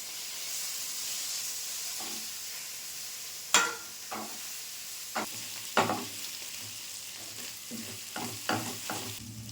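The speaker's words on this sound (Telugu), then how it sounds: "ముక్కగా రెడీ చేసి పెట్టుకున్న ఈ యొక్క ముక్కలు కూడా చేసుకుంటున్నాను ఇందులోనే" Pieces of food fry in a pan with a steady hiss and sizzle, broken by sharp scraping knocks of stirring at irregular intervals, heard close and alone.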